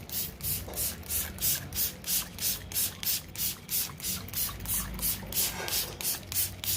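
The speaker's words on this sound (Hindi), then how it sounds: "अच्छे से स्प्रे करें, चारों तरफ से सोइल में भी स्प्रे कर दें।" Repeated pump-spray bursts of Saaf fungicide misted onto a potted succulent and its soil, a quick steady rhythm of short hissing puffs, close and fairly loud, with no talking.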